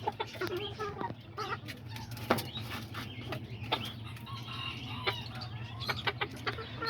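Kikiriki Azteca rooster and hens cluck repeatedly close by in a farmyard, with sharp calls and a possible short crow rising over a steady low hum and scattered rustling.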